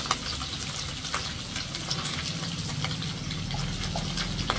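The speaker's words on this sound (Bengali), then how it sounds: "মাছটা ভাজা হতে হতে" Fish frying in a pan for fish kalia, a steady close sizzle and crackle of hot oil with occasional sharp pops, continuous throughout with no talking.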